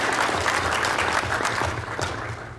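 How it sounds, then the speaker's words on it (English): Dense applause from a school board meeting audience honoring parents and guardians, a steady wash of many hands clapping alone for under three seconds, fading slightly at the end. "Let's give our parents and guardians a round of applause."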